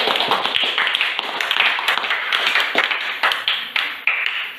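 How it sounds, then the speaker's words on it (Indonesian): A classroom audience applauds a group's finished project, dense steady clapping from many hands throughout, close and lively with no talk over it. "Kita kasih aplaus dulu untuk."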